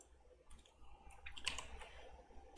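A few soft mouse clicks while installing Battlefield 3 on a computer, quiet and close, with a small cluster of clicks in the middle and no talking.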